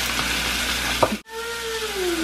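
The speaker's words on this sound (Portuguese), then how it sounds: "Vai queimar aqui, ó, o alho." Garlic sizzles and fries steadily in a hot pan, a dense close crackle throughout with a brief clatter and a short pause partway, followed by a faint tonal whine under the continuing sizzle.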